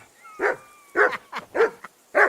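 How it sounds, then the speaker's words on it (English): A dog barks in the medieval open-world game Kingdom Come: Deliverance 2. Five loud, sharp barks come in an uneven rhythm, close by, with a faint thin whistle-like tone under the first few barks. "Whistle at that mutt of yours to stop barking."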